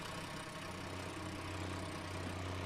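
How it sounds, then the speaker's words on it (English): An old tractor engine idling in Farming Simulator, a steady, low, humming drone with an even throb. It holds constant and fairly quiet with no talk over it. "Shut the old tractor off"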